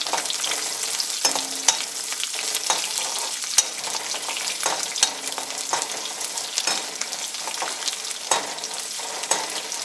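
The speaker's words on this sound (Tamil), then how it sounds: "இப்போ பொரிஞ்சோடனே பூண்டு, இஞ்சி பொரியட்டும்." Garlic and ginger fry in hot oil for onion vathakuzhambu, giving a continuous close crackling sizzle dotted with sharp pops and occasional utensil clinks.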